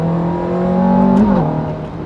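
A Ferrari F430's naturally aspirated engine revs hard toward 8,500 RPM, one loud, close rise in pitch that peaks sharply and then drops back.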